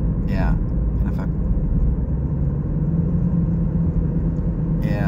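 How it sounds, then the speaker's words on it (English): A 2017 Ford Escape with 62k miles, its transmission shuddering on a forced downshift: a low, steady engine and road rumble heard from inside the cabin, with brief faint noises at the start and end. "I pressed the pedal down to make it downshift"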